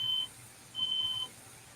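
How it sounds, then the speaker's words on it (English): A phone alarm set as a medicine reminder gives two high, steady electronic beeps, a short one and then a longer one, alone in a quiet room. "that is my alarm reminding me to take medicine."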